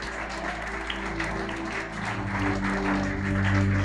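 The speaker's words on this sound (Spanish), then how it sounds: "¿Puede dar un aplauso al Señor?" A church congregation claps for the Lord during a Spanish-language sermon, a steady wash of many hands with a sustained musical tone underneath, continuing evenly throughout.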